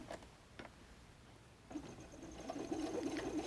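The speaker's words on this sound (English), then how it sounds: "Now I'm going to turn and sew up this side." Sewing machine stitching up the side of a messenger bag pocket along a chalk line, starting after a few quiet handling clicks, then a steady close whirring run with rapid needle chatter.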